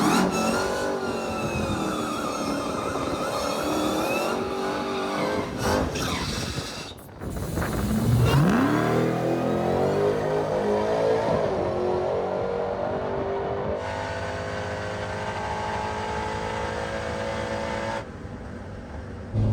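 A Dodge Demon-built truck accelerates hard, its engine rising steadily in pitch through the gears with a brief lift between shifts, loud and close, then settling into a sustained high-revving drone.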